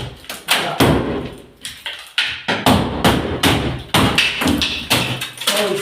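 A rotten wooden structure being smashed down by hand on a farm in Northern Portugal: a rapid series of loud, close thuds and cracking blows, one after another, with short gaps between strikes.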